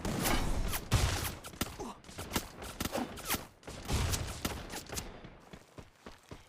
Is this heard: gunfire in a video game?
yes